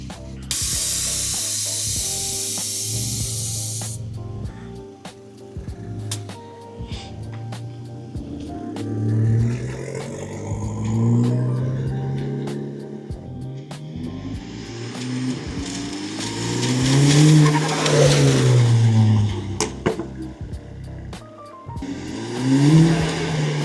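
Drive-by of a VW Mk6 GTI fitted with a diverter valve spacer and air suspension, the car approaching and passing with engine rising and falling and small turbo flutters on lift-off, plus a sharp hiss burst at the start.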